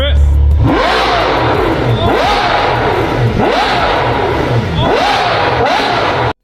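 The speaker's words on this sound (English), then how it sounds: "Then it was finally ready to hear the full exhaust." A Ferrari engine revs hard and repeatedly through a full exhaust, rising and falling in several sharp bursts with a brief idle burble at the start.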